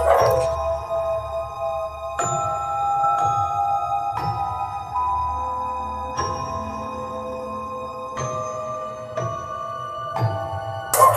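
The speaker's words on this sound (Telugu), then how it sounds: "మళ్ళా కుక్కలేమో అరుస్తున్నాయి" Several dogs bark at midnight outside an old royal fort, sharp yelping calls repeating at irregular intervals over a low steady background hum, moderately near and loud with no talking.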